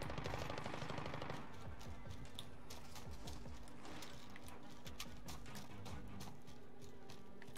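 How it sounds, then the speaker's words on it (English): Rapid bursts of gunfire as people shoot at someone: loud, sharp cracks that repeat in dense, uneven volleys, heavy at first and then scattered, with no talk over them. "They're shooting at him."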